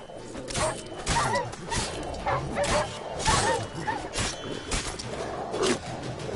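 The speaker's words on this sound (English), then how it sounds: "Oh no, they're just dogs." Dogs bark and yip in The Witcher 3 video game, a run of rapid, rough barks close by amid scuffling combat noise, with brief voices underneath.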